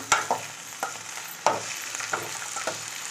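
Ivy gourd (kovakkai) strips fry in hot oil with a steady soft sizzle, punctuated by a few sharp close clacks of a spatula stirring the pan.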